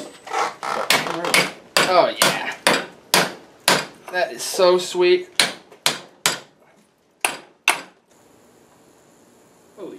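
Sharp, ringing hammer blows strike metal in quick succession while a grappling hook is built, thinning to a few spaced hits before stopping, with a person talking between strikes.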